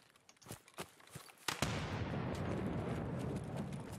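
Grenade blast in Escape From Tarkov, a sharp loud boom with a long rumbling tail, following a few scattered faint shots and thuds.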